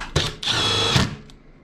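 A power drill whirs in short bursts, driving a screw into the panel of an LG Multi V HVAC unit under maintenance, loud and close with a brief start, a sustained spin, then a tapering stop.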